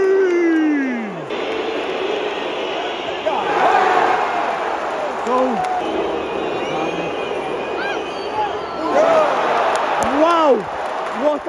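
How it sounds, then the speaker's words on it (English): A football stadium crowd roars and whistles loudly after a penalty at a Portugal versus France match, with swooping shrill whistles rising and falling across the stands under continuous excited commentary. "Listen to the whistles in this place."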